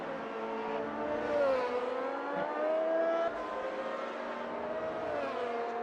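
Alboreto's Ferrari Formula 1 car from a 1984 Italian Grand Prix race in the racing game AMS2 whines steadily at high revs, its engine tone rising and dipping slightly as it moves through a chicane.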